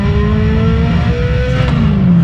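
A Nissan 350Z engine drones loud and close inside a racing simulator rig, with a continuous revving tone whose pitch slides slowly as the throttle shifts.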